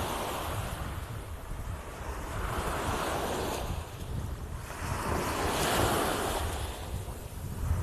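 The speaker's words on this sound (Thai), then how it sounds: "เช้านี้ไปดู ใกล้ๆคลื่นกันหน่อย" Ocean waves wash onto a beach at Bang Saen, Thailand, in early morning, in slow, rolling surges, mixed with steady wind noise and no voices.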